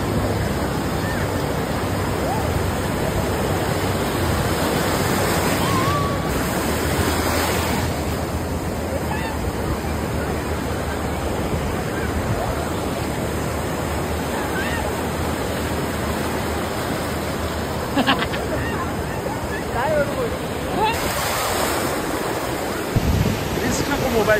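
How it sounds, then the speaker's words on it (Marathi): Sea waves surge and wash steadily onto a Ratnagiri beach on the Konkan coast, a loud, continuous roar of surf with gusts of wind noise across the microphone and no talking. "आता आपण आलो आहे समुद्रामध्ये"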